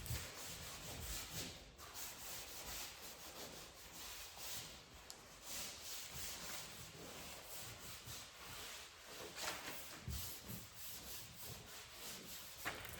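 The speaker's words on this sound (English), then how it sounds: "So I'm going to go ahead now and sand this out." Steady hand sanding on the exterior hull of a boat being faired, a continuous close scratchy rubbing with rhythmic strokes, fairly quiet, with no talk.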